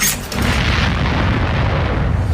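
A loud, deep explosion booms at the start, then a heavy rumbling roar sustains at full volume to the end.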